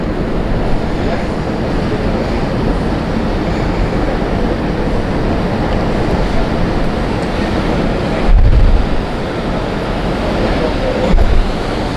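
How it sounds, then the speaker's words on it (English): Water churned up in the wake of a cruise ship off the Mexican Riviera near Mazatlan, heard as a steady broadband rush of surf and wind noise with a couple of louder low gusts near the end. "We're sure making a wave."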